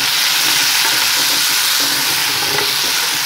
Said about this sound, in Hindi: टमाटर को भी अच्छे से हम लोग थोड़ी देर के लिए भून लेते हैं।